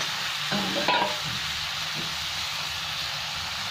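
Potatoes fry in hot spiced oil while being stirred in a pan. A steady, faint sizzle and hiss runs throughout, with a few soft scraping sounds from stirring near the start.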